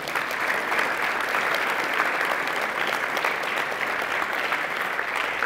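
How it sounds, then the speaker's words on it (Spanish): Steady, loud applause from a large church congregation, continuous clapping with no break from start to finish. "¿Cuántos le dan un aplauso a Jesús?"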